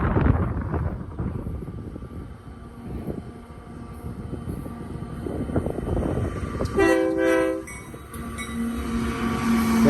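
A Union Pacific freight train led by SD70 locomotives rolls past with steady, loud wheel and engine rumble, including auto rack cars, and a horn sounds several times partway through.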